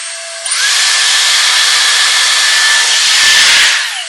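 A Dyson Airstrait straightener blows a steady, loud rush of air through super fine hair, starting after a brief quieter moment and holding an even whoosh with a faint whine for several seconds before tapering.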